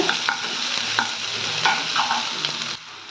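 Onions sautéing in a pan for banana flower and capsicum thokku, a steady close sizzle broken by repeated stirring scrapes, ending abruptly in near quiet.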